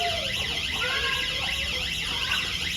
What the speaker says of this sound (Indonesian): Ini namanya bunyi alat peringatan dini.